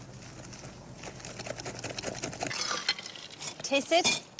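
Utensils scrape and clink against a bowl as a salad seasoned with salt, white pepper and chopped dill is tossed and mixed, soft rustling growing into brighter metallic taps near the end.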